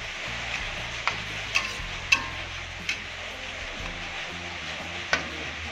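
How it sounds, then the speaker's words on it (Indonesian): Mie Aceh with tongkol tuna is stirred in a pan over a steady low simmer, with a handful of soft, separate utensil taps against the pan spaced a second or so apart. "Kita aduk kembali."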